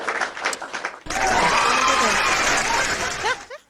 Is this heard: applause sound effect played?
yes